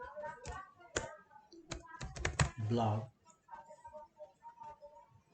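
Keystrokes on a computer keyboard while a page is built in WordPress, with soft clustered taps that are partly masked by someone talking over them.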